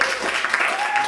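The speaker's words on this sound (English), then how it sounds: "Round of applause." Comedy club audience at the Ice House breaking into a short burst of applause, a dense steady patter of many hands clapping with faint voices mixed in.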